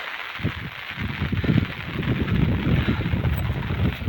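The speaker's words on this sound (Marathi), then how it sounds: "वारा पण सुटला आहे जोराचा" Strong wind buffets the microphone in low, gusty roars that swell and persist, loud and close, with no voices, at a muddy fishing spot.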